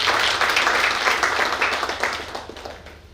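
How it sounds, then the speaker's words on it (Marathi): Audience applause at a book launch for a consumer-rights book by a retired judge: dense, steady clapping from many hands, fairly loud throughout and tapering slightly toward the end. "आपण जोरदार टाळ्या वाजून आपण त्यांचे अभिनंदन करू."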